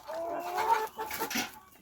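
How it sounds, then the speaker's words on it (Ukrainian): Mykhalenska Zozulia hens, large heavy birds hatched from home-laid eggs, cluck softly and faintly in a yard, a few low murmuring calls in quick succession. "Це кури породи Михаленська зозуля, виведені з власного яйця у власному інкубаторі"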